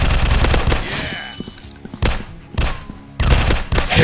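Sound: gunfire in an FPS robot shooting video game

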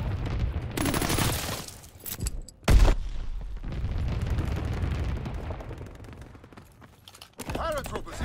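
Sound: fighter aircraft strafing the target with gunfire

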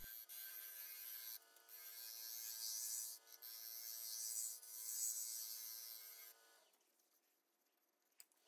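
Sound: sanding a poplar wood bowl

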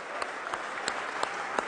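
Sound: audience applauding women's hockey team

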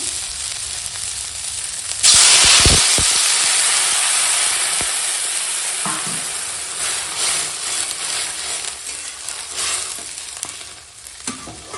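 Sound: water added to sautéed spices sizzling in a pan

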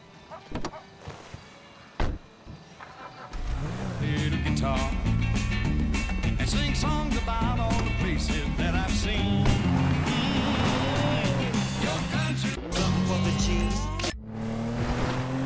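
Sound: car driving in video game Grand Theft Auto 5

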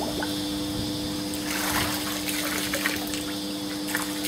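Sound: splashing water

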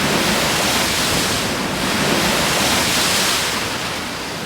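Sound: sea waves on a beach

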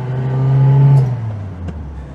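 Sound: Zastava 750 car gearbox whining in first gear

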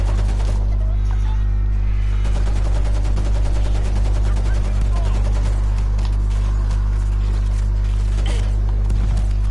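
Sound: teammate's gunfire in the video game World War Z

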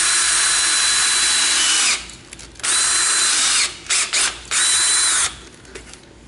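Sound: drill boring into Toro reel cover

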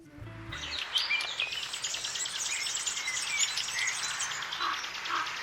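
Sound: birds singing outside window

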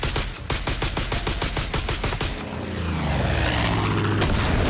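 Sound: airplane and gunfire in video game Far Cry 5

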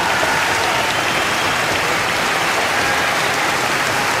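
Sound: audience applause for Amira Willighagen

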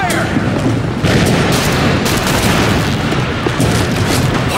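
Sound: gunfire in the video game The Bureau: XCOM Declassified

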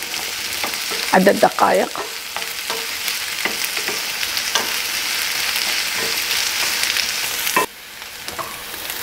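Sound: onion frying in hot oil

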